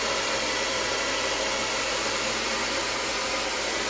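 A hair dryer blows on its cold shot setting, a close, constant airy hiss of wide noise that stays level and unbroken throughout.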